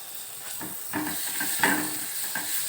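Garlic sizzling as it drops into hot oil in a wok, a steady hissing fry with brief louder surges as it is stirred, close and alone.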